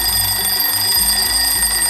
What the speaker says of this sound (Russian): Давайте попробуем будильник, да?